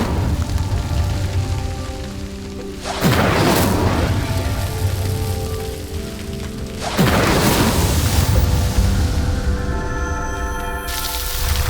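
The Incendio fire spell in Hogwarts Legacy bursts out twice, each cast a loud whooshing blast that flares up sharply and then trails off into a crackling roar, with game music and ambience underneath.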